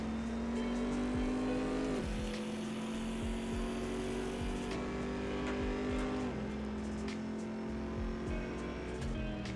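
Turbocharged car in the Assetto Corsa racing game, engine droning loudly and steadily with rising revs and two sharp pitch drops at gear shifts, brief tire squeal around it, no talk.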